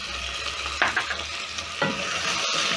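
Potatoes and carrots being stirred into onions and garlic already frying in a pan, with a continuous sizzle broken by two or three louder scraping stirs of a spoon, close and clear with no talking.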